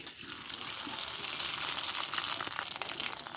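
Semolina papad dropped into hot oil in a karahi over a village stove, giving a steady loud sizzling hiss that swells and holds with crackly bubbling, no talk.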